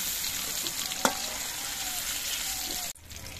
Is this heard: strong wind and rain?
no